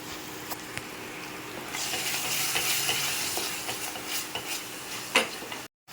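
Ginger, garlic and green chilli paste frying with onion and tomato in a pan for egg masala curry: a steady, rising sizzle with intermittent utensil clinks and scrapes, close and moderately loud, with no speech.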